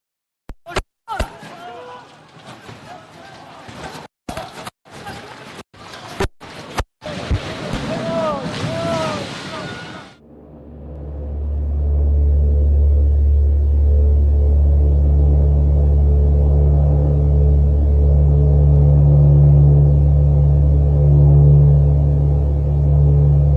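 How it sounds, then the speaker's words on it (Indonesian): A deep, heavy earthquake rumble swells in after a stretch of sharp knocks and clatter, then holds as a loud, continuous low roar that fills the rest of the clip. "Di balik keheningan hari, gemuruh mulai terdengar. Tanah mulai bergoyang"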